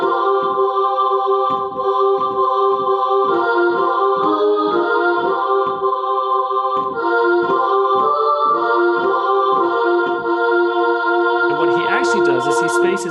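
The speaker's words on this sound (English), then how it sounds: "if I played that as a really like an organum together on my clunky electronic piano, it would sound something like this." A clunky electronic piano plays the Requiem Agnus Dei as organum, sustained stacked chords moving in slow steps with a steady rhythmic pulse in the low register, then a brighter, busier burst of notes near the end.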